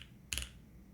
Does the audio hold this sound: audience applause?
no